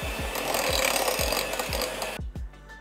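A hand mixer on low speed beats keto chocolate chip cookie batter in a bowl, giving a steady close whirring and scraping with regular dull knocks, then cutting off abruptly near the end. No one talks.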